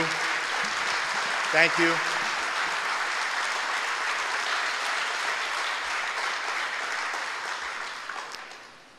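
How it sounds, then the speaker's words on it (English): Sustained applause from a large audience at an award event honoring first responders, a steady dense crowd of clapping that fades near the end, with a brief spoken thanks early on. "I'd like every first responder please to stand up so we can applaud all of you."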